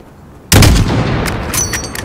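A single loud rifle shot fired at a distant target in Call of Duty Modern Warfare, its boom trailing off into a long rolling echo.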